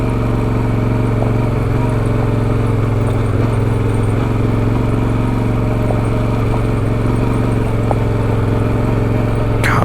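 A dirt bike engine labouring in first gear up a steep hill, a loud, steady, close drone with constant throttle and no breaks, heavy wind rumble mixed in.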